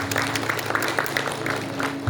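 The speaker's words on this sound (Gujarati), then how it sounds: "એકવાર જોરદાર તાળીથી વધારો" Audience at a Gujarati devotional dayro gathering clapping together for about two seconds, a steady, fairly soft patter of many hands with no voices standing out.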